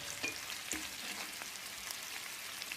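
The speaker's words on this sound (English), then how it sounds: "Quick stir." Food frying in a pan gets a quick stir: a steady, fairly quiet sizzle and spatter with a few brief scraping strokes, close by, with no talking.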